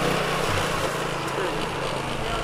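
A scooter engine buzzes loudly and close during a ride, a high, rough whine that carries on without a break, with voices faintly present.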